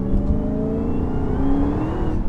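A 2020 Dodge Charger SRT Hellcat Widebody spinning its tires on a wet road at quarter throttle, a loud, close engine roar with a rising whine and steady tire rush over two seconds.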